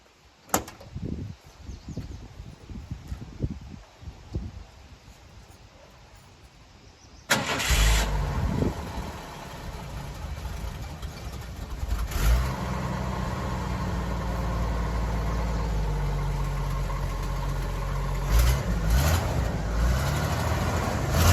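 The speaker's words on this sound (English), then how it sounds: "It's a little louder when you first fire it up, but once it idles for a minute, it mellows right out." A Ford F-150 bullnose pickup truck with a dual-muffler exhaust cranks and catches loudly, then settles into a steady rumbling idle that continues for a long stretch.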